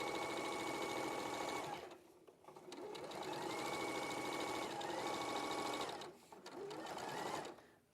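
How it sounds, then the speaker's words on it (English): A sewing machine stitches fabric for a dress with a fast, even mechanical whirr. It runs close and steady in long bursts, broken by two short pauses. "It sings, this sewing machine."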